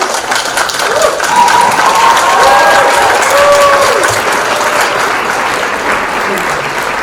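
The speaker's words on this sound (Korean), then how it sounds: "다 같이 힘찬 박수 한번 치고 시작할까요?" An audience at a hanbok fashion show event gives a loud, sustained round of applause, dense clapping swelling and then easing, with some voices and shouts mixed in.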